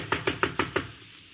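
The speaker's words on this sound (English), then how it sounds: "Now, I knock on your door." Five quick, evenly spaced knocks on a door, close and fairly sharp, then quiet, during a comedy routine.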